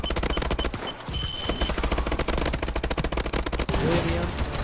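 Rapid automatic gunfire in Call of Duty Advanced Warfare Exo Survival mode, sustained close bursts of rattling shots with a brief lull, continuing loud and dense to the end.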